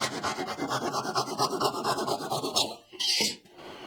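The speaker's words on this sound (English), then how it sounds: "Like if I have to cut dowel, I can put this stop right up against my bench and then just use a handsaw" A handsaw rasps through a small wooden dowel held against a bench stop jig, with rapid, even back-and-forth strokes close up, then the cut finishes and a couple of brief scrapes follow.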